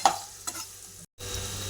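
Masala with garam masala and turmeric powder fries in a pan, a soft steady sizzle with a few light stirring scrapes, close up and briefly cut off by a gap of silence.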